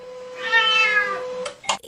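A cat lets out one long, drawn-out meow that rises and falls, clear and close. Two short, sharper sounds follow near the end.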